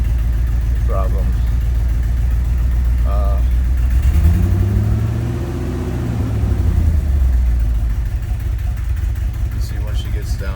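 Ford F-250 pickup engine with a misfire running at a steady idle, a loud, continuous low rumble that rises and falls in pitch midway through, close to the microphone.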